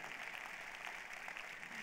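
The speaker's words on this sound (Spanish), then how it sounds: "dale un fuerte aplauso al Señor ahí por la palabra de Dios" A church congregation claps in steady, dense applause after a sermon, a continuous wash of hands throughout with no single voice standing out.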